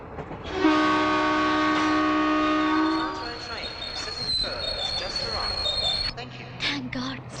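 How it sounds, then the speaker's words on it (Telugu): A train blares a long, loud horn as it pulls away from a station in a film scene, then the rolling rumble and rattle of wagons carries on underneath. "ట్రైన్ మళ్ళీ బయలుదేరుతుందండి."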